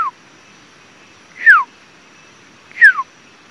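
A man whistles two short descending calls imitating a Malabar Trogon, each a clear sliding note separated by a pause of quiet.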